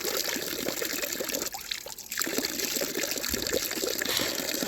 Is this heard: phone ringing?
no